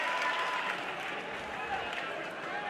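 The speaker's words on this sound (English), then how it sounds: "The whole crowd erupts every time Devin goes for a slam." A crowd cheering and clapping at a wrestling match, a sustained, fairly faint roar of applause and voices with a commentator talking over it throughout.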